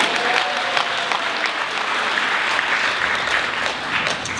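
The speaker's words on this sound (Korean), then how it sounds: "박수" Sustained applause from a forum audience, many hands clapping together at a steady, lively level for several seconds.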